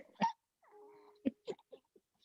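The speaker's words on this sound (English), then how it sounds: "Oh, you get the hiccups." A person hiccups during a relaxed team chat, giving a few quick, close, soft spasms with a faint sighing tone in between and no talk over them.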